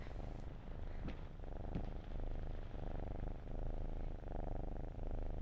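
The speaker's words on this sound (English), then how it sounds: "It's a purring cat toy." A toy cat purrs in the video game Layers of Fear, a steady low rumbling purr that goes on unbroken with no voices.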